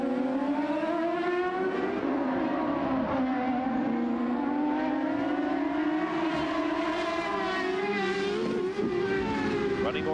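Onboard a 1997 CART race car at Mid-Ohio with Alex Zanardi driving, a loud, high-pitched engine wail rising and falling through gear changes without pause, dense and continuous for the full stretch.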